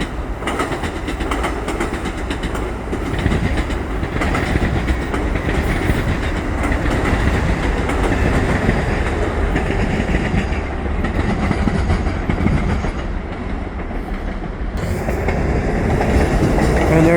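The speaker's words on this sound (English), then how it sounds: "here comes a westbound commuter train" A westbound commuter train rumbles past close by at Dorval station near Montreal, wheels clattering rhythmically over the rails in a loud, sustained roar with occasional squeals.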